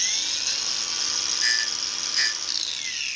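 A grinder whines at a high, steady pitch as it lightly takes a burr off a freshly sharpened edge, with two brief rises in tone midway.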